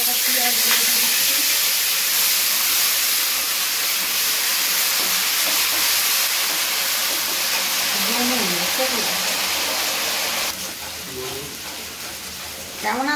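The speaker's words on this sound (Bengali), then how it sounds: "জিরে দিয়ে দিচ্ছি, রাখা পেঁয়াজ দিয়ে দিচ্ছি।" Cumin seeds and onion sizzling in hot oil, a steady dense frying hiss with bubbling crackle that runs throughout and eases slightly near the end, with a voice faintly audible beneath.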